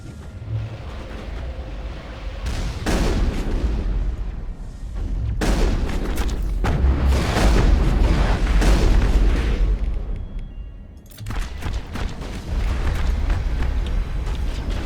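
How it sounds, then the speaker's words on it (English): Grenade explosions in the Mass Effect video game, with repeated loud booms and blasts in dense, overlapping bursts, under a steady game din, then a brief lull before more blasts follow. "That's a lot of grenades in my face."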